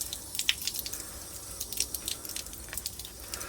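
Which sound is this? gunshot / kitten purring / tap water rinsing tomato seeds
tap water rinsing tomato seeds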